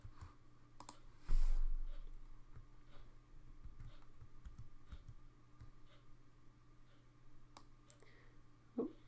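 Quiet, sparse computer mouse clicks at a desk while drawing parts in Inventor CAD software, a few isolated soft taps over faint room hum.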